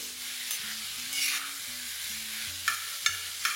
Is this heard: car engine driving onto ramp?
no